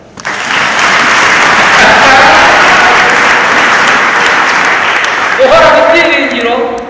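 A congregation at an evangelist's sermon claps together in a loud, sustained burst of applause that holds steady for several seconds, then a voice begins speaking over the fading clapping near the end.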